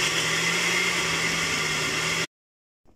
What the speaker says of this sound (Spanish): Licuamos.